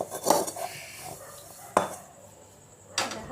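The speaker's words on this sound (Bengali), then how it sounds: "দেখো কড়াইটা আমি পরিষ্কার করে নিলাম" Metal wok being cleaned in a home kitchen before frying egg chops: a few sharp clanks and scrapes of metal, spaced apart over low background quiet.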